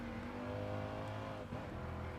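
A Chevrolet Nova engine in the Gran Turismo Sport racing game, a steady sustained drone with a slight dip in pitch midway as it shifts or lifts, continuous and fairly close.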